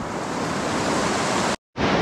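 A river swollen by a dam release rushes past at a hiking spot near Kathmandu, making a loud, dense, continuous roar of water that cuts out briefly near the end.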